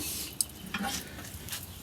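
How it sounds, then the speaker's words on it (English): Charcoal coals being shuffled and flattened in a hot BBQ grill: a soft, continuous scraping and clinking rustle with a few sharper knocks, fairly close and moderately quiet, with no talk. "I'm just going to shuffle a couple of these coals, kind of flatten out the top a little bit."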